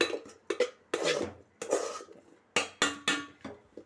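A metal utensil scrapes and knocks against a pan while ragi flour is stirred and roasted dry for ragi sangati, about eight separate clattering strokes in an uneven rhythm, close and fairly loud, with no voices.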